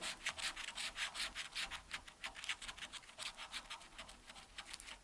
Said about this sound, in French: je pense pas avoir gagné ce petit lot, mais on va gratter